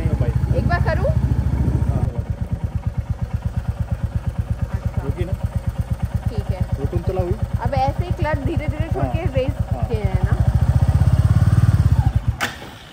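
A Royal Enfield Bullet motorcycle engine thumps steadily through clutch practice, loud and close under continuous talking. It revs up harder near the end, then cuts out abruptly.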